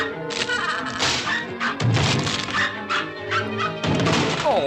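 A cartoon puppy from a 1952 animated short barks and yips while things crash and bang around the house, a busy run of loud bumps, thuds and smashes over music.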